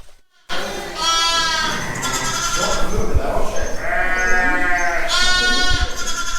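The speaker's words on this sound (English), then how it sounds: "a wee clip of this sheep now out in the field" Sheep bleating repeatedly out in a field in Scotland during lambing, several loud, close, wavering bleats in succession, with a person's voice talking alongside them.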